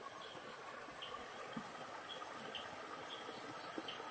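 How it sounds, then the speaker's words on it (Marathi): Water flows steadily down from above over rocks near a bridge at a crab-catching spot in the Konkan countryside around Dapoli, a faint, continuous wash with no talking. "वरती बघू शकता वरनं पाणी येतो आहे"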